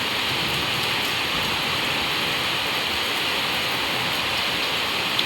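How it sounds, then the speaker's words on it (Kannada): Heavy rain pours down in a dense, steady roar of hiss, close and loud and unbroken, with no voices over it. "ಇಲ್ಲಿ ಮಾತ್ರ ತುಂಬ ಮಳೆ ನೋಡಿ"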